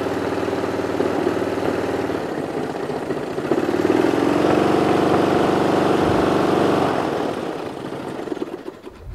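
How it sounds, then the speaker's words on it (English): A Toro Wheelhorse 1238XL lawn tractor engine idles steadily and close, then rises to a louder, fuller run for several seconds before easing back down near the end, with no talking. "I just wanted to start it up to see if it starts up well."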